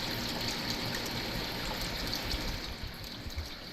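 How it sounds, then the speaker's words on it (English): Pumped creek water trickles and splashes down into a garden pond, a steady close burble of running water with no voices. "We pump water up into the creek system. It drops down into here"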